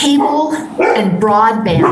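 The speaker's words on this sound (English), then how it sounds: "you can hear my dogs in the background here" Dogs bark and yip in the background of a home during a remote city council work session, repeated sharp barks partly masked by someone talking over them.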